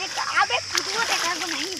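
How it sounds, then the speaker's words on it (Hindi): Children swimming and splashing in clear outdoor water, a steady wash of splashes and sloshing running beneath close, continuous talking. "ये देखिए बच्चे लोग भी मस्त तैर रहे हैं"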